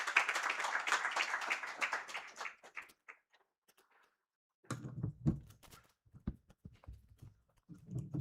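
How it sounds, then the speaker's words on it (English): Applause from an audience welcoming a speaker at a gender equality event, a dense burst of clapping that fades out after about three seconds, followed by scattered taps, knocks and a voice. "Please welcome him with a resounding round of applause."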